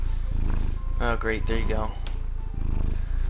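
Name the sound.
cat purring in the video game Dwarf Fortress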